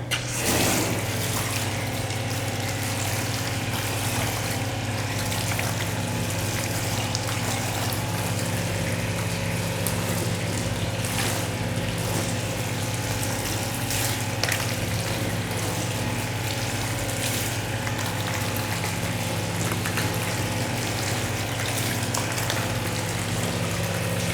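Water sprays steadily to rinse acid cleaner off a car's paint, a continuous hiss that runs unbroken for over twenty seconds, close and fairly loud, with no voices.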